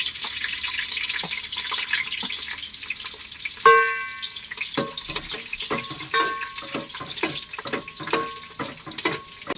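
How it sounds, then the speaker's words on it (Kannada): Mustard seeds sizzle and pop in hot oil, with sharp scattered crackles and spits over a soft frying hiss; a brief metallic clink near the start. "ಎಣ್ಣೆ ಬಿಸಿಯಾಗಿದೆ ಸಾಸಿವೆ ಹಾಕ್ತಾ ಇದ್ದೀನಿ"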